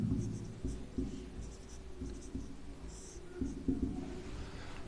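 Writing on a board during a geography lecture: soft, irregular scratching strokes spread through the clip, close but faint against a low room hum, with no clear talk.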